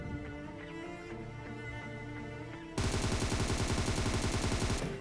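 Automatic gunfire in PUBG Mobile, a sudden loud stream of rapid shots that starts midway and keeps going steadily to the end, following a quieter stretch of game music.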